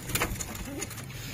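Pigeons in a loft coo nearby, giving a couple of soft rolling calls amid faint background rustle.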